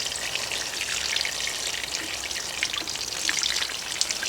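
Water poured from a can onto bone-dry soil in a greenhouse plant pot, making a steady close hiss of splashing and trickling droplets throughout with no talk.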